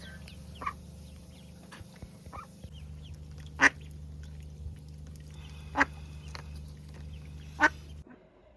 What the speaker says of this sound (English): So we've got Mrs. Mummy Duck.